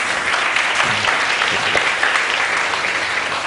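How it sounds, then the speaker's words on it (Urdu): A studio audience at a Ramadan TV transmission breaks into steady, dense clapping that carries evenly through the whole stretch without pause. "میری بہن کے لیے بہت سی تالیاں."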